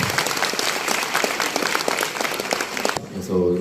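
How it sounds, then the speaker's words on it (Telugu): Audience applause at the Shri Kala Sudha Telugu Association Mahila Awards in Chennai: dense, steady clapping from a crowd fills about three seconds, then cuts off and a voice follows. "అలాంటి టైం చప్పట్లు కొడదాం."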